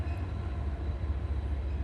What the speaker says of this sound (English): Okay, Geronimo Mocat, 1 second, train, hold up